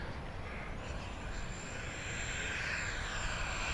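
An E-flite SU-30 twin 70mm electric ducted-fan RC jet flying overhead, giving a steady, loud whooshing roar with a rising high-pitched whine, continuous throughout with no talk.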